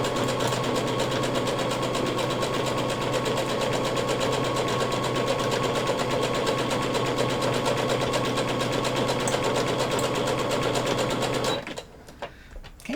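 A sewing machine runs continuously as it stitches a costume seam, a loud, fast, steady mechanical whir for about eleven seconds before stopping abruptly, followed by brief quiet handling noise.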